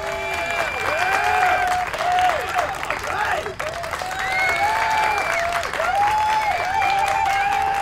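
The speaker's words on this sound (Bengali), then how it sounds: "সবাই এবার জোরে হাততালি দিয়ে উঠল।" Loud, dense applause from an audience, a sustained wash of clapping with a short dip midway, used as a sound effect in a Bengali horror audio story.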